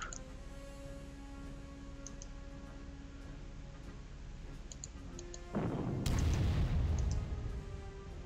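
Artillery fire in a WWII Stalingrad docks strategy game: a single heavy boom erupts late over a steady hum with faint ticking and clicking interface sounds, no voices.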